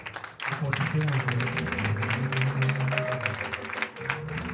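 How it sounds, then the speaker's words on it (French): A church congregation claps for the Lord during a Sunday service, a dense, sustained patter of many hands running steadily throughout with voices and singing mixed in underneath. "Acclamez pour le Seigneur."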